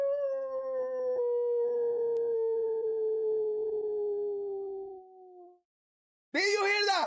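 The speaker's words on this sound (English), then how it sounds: "I recorded that howl just for this moment" Recorded animal howl played back, a long sustained wavering tone close and clear that slowly falls in pitch and fades out, then a short gap before a brief harsher cry.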